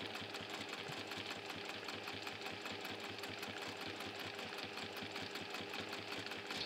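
A sewing machine topstitching brushed cotton runs steadily at close range, with a fast even mechanical rattle throughout and no talk.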